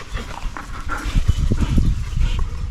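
A German Shepherd gives a series of mild, low gruffs and short huffs at close range, irregular and moderately loud, with no talk over them.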